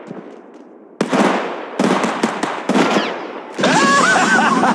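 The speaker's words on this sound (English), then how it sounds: "Shooting!" Rapid bursts of gunfire from weapons in the battle royale shooter Apex Legends Mobile, several loud crackling volleys one after another, then a sustained bright burst with whining tones at the end.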